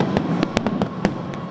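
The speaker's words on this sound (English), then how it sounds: "light the night sky with one of the largest firework finales in North Texas" Fireworks burst in the night sky during a large North Texas Independence Day finale, with sharp cracks landing in an irregular rapid rhythm over a continuous rumbling roar of more distant explosions.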